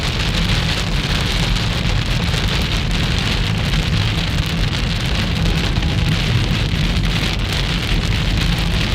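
Heavy rain and hail pound down in Canyonlands, a loud dense continuous roar of drops on a surface, steady and unbroken with no voices.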